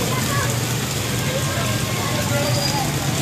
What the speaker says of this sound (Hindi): मानसून की बारिश ही इस तरह होते हैं।